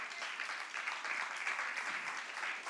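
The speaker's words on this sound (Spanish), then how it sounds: "Dale un aplauso, Señor, claro que sí." A church congregation applauding during a worship service, a steady wash of clapping from many hands that stays fairly faint and even throughout, with no voices over it.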